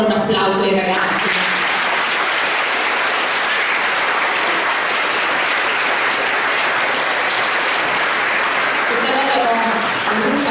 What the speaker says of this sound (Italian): Facciamo ancora un applauso ai ragazzi